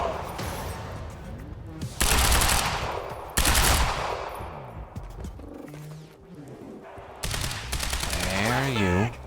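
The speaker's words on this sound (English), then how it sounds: "You called for suppressive fire." Suppressive assault rifle fire in Quantum Break comes in several loud, sharp bursts separated by short pauses, with talk heard between the volleys.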